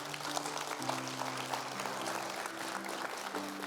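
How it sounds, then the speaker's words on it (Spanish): A church congregation applauds, continuous dense clapping from a crowd, fairly quiet and distant, with some tonal voices or music blended underneath. "Denle un aplauso a Él."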